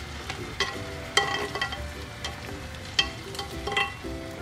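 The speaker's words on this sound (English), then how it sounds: "we're just gonna stir it" A spoon stirs sugar into a syrup in a pan, with scattered light clinks and scrapes against the metal that come at an uneven rhythm over a low background hiss. Nobody speaks.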